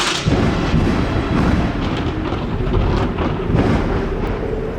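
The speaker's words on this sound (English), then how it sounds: "That storm is miles away." Thunder from a distant storm rolls as a continuous low, heavy rumble that stays fairly loud and steady throughout, with no voices.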